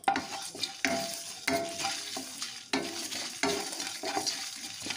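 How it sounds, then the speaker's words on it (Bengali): Fennel seeds and whole cumin toasting in a pan for a tangy tamarind pickle, a busy crackling sizzle punctuated by repeated rhythmic spatula scrapes and stirs, close and fairly loud, with no talking. "এখন সমস্ত মশলাটা ভালো করে একটু নাড়াচাড়া করে ভেজে নিচ্ছি একটা সুন্দর গন্ধ আসা পর্যন্ত"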